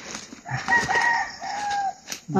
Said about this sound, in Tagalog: Ligaw na manok kan.